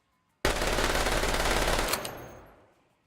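A sudden, loud burst of sustained automatic gunfire in the Escape From Tarkov shooter game, rapid shots running for about a second and a half before cutting off and echoing away into a fading tail.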